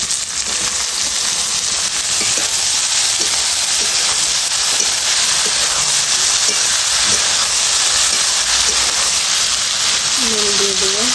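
Taro stolons hit a pan of fried onions and sizzle loudly in a dense, constant hiss that holds for the whole stretch, close up, with a brief voice near the end.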